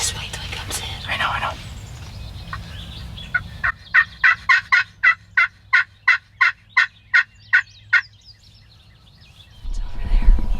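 Wild turkey gobbling during a Kentucky turkey hunt, a rapid train of about a dozen sharp, rhythmic gobble notes, loud and fairly close, after a soft hushed whisper.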